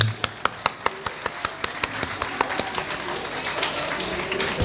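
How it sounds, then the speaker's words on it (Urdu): Scattered audience clapping for parents at a school event, a string of distinct sharp claps at first that blur into a denser, steady round of applause. "تو ایک تالیاں ان کے لیے بھی."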